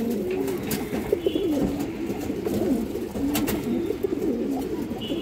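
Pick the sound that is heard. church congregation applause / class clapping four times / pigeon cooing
pigeon cooing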